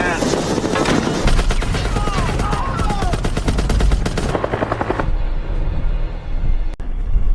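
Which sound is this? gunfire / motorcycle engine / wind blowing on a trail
gunfire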